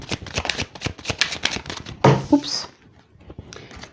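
Tarot cards shuffled in a quick riffling patter, then a single card slapped down on a table with a brief thud, followed by a near-quiet pause.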